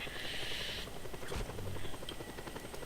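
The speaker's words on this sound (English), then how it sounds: "How the helicopter just hovers above ground while I'm hijacking it" Video game helicopter hovering above the ground during a hijacking, a continuous rotor buzz with game effects and clanks mixed in, fairly quiet.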